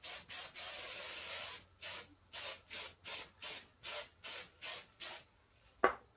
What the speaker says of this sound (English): So I'm going to take a little bit more hairspray.